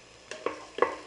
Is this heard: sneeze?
no